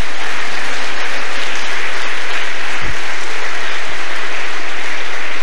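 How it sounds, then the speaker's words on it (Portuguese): Church congregation clapping hands in praise, a loud, continuous wash of many hands filling the space for several seconds, with a couple of low thumps mixed in and no speech. "Louva a Deus com as palmas."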